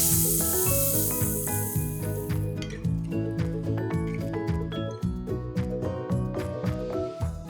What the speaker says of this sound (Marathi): तुम्ही बघू शकता की ती फोडणी मस्त तडतडते.